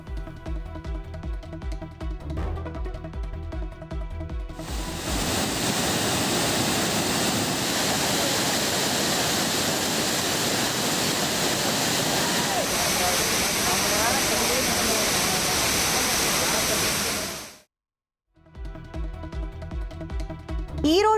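A steady, full roar of rushing water from the Hogenakkal waterfall, where tourists bathe, holds for about thirteen seconds between stretches of music.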